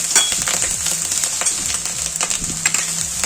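Wheat grains stir-fried in a pan for a Marathi sweet with jaggery, a steady loud sizzle with scraping stirs and grainy rattling throughout, close by, no talk.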